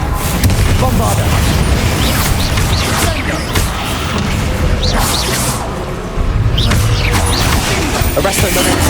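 Dense spell blasts and explosive booms from the Hogwarts Legacy video game, Confringo and Bombarda impacts crashing and whooshing continuously at loud volume with combat effects layered throughout.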